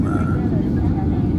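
A passenger airplane landing on a runway with landing gear down, heard from inside the cabin as a loud, steady low engine and airframe roar with faint voices over it.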